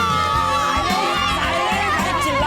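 A crowd of schoolchildren shouting and chattering at once, a loud, continuous din of overlapping young voices with no pauses.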